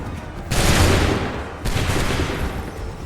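A musket volley in Assassin's Creed 3 sounds as two loud, dense bursts of massed gunfire, each a wide crackling roar that lingers and fades, close and dominant.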